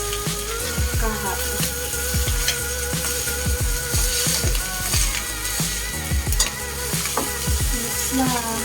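Garlic fried rice (sinangag) stirred in a pan: a steady loud sizzle of frying with repeated scraping strokes of a utensil in an uneven rhythm, up close and with no talking.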